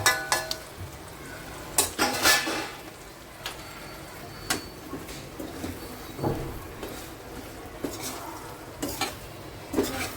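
Turmeric and curry leaves are added to hot oil with mustard seeds, cumin, garlic and asafoetida, giving a steady sizzle broken by sharp clicks of a spoon stirring against the pan.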